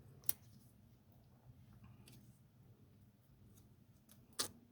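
Scissors cut paper card in two sharp, isolated snips, one near the start and one near the end, separated by a quiet room hum.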